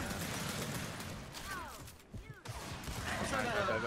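Gunfire in the shooter Gears 5 during a ranked Control match, sustained shooting blended with game effects and sweeping tones, players talking faintly in the background.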